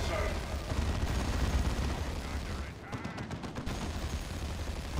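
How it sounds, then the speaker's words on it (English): Flash Gits and Shooter Boys blast away with sustained gunfire in the Dawn of War 2 strategy game, a dense continuous rattle of shots with a brief burst of sharp cracks midway, steady and loud throughout. "Flash Gits and Shooter Boys just blasting away at scouts."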